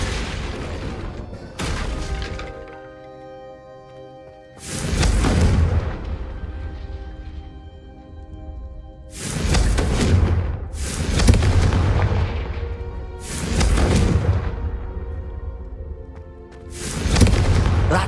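In the Hogwarts Legacy video game, a Confringo blasting spell hits candelabras in a row of loud, booming explosions, each one followed by a long, ringing decay before the next blast.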